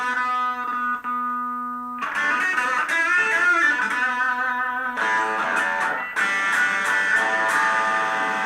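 Electric guitar played through effects with its bridge pickup wired out of phase, giving a thin, hollow tone; a single sustained note, then loud distorted chords strummed in bursts, fairly close and without talk.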